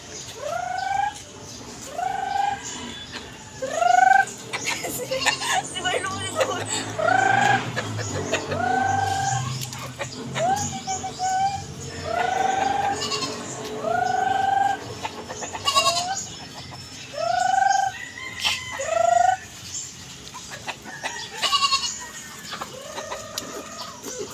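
Chickens being fed cluck and squawk repeatedly in a steady, busy chorus, close by, with scattered rustling and a bleating animal in the background.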